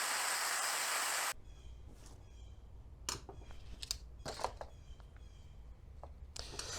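A plastic air coupler cut on its second side: a loud burst of broadband grinding noise at the start, then quieter scattered clicks and scrapes of handling the part nearby.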